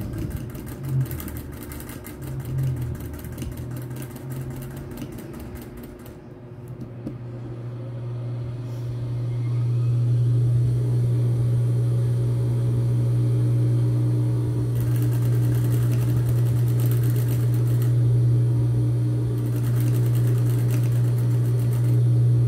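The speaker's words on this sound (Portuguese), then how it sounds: "Vou logo costurar aqui tudo junto." A sewing machine stitches fabric for a mug cover, starting with rapid mechanical chatter, pausing briefly, then running in a loud steady whir with a strong motor hum, and no one talks.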